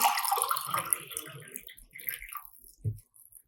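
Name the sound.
water being poured into a glass container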